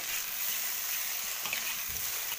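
Dumpling filling stirred as it fries in a pan, a continuous close sizzle with faint scraping and stirring sounds and no speech.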